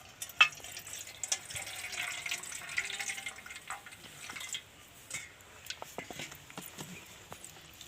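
Soaked chana dal rinse water being poured off in a kitchen during laddu preparation: a fairly quiet, uneven splashing and trickling with a few small clinks and knocks, no voices.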